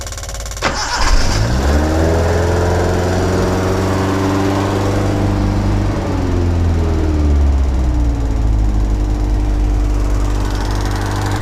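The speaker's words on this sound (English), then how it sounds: "I'm going to attempt to start it now that it's primed" A Bedford Rascal van fitted with a new fuel pump cranks briefly and catches, then its small engine settles into a loud, steady idle close by, with pitch shifting slightly as it runs on.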